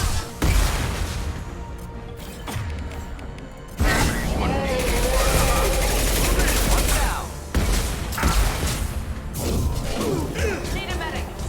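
Incendiary-ammo gunfire in the shooter Mass Effect 2, with repeated bursts of shots and crashing impacts over a dense, loud combat mix, pausing briefly between volleys.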